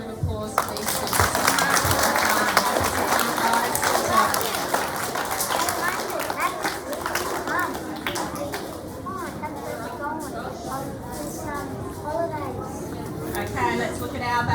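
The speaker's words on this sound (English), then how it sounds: "A huge big round of applause for these superstars." Children and staff applauding pupils at a school assembly, a lively spread of clapping mixed with chatter and voices, strongest at first and then thinning under continued talk.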